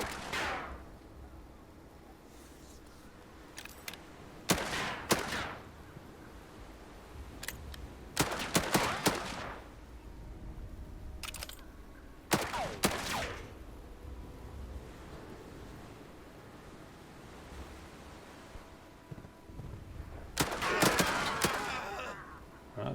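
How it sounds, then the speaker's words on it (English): Machine gun fire in the WW2 strategy game Headquarters: WW2, several short loud bursts of rapid shots spaced apart over a low steady background rumble. "See, the machine guns sound the same."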